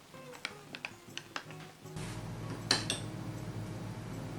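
A spoon clinks against a bowl in a few quick taps as za'atar is stirred into olive oil for manakish, then a softer, steady scraping mix follows.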